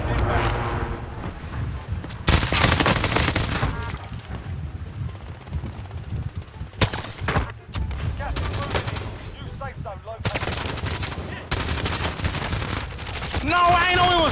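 Rapid gunfire bursts from a Call of Duty Cold War Warzone match on the Alcatraz map, with loud volleys coming and going under constant excited player talk.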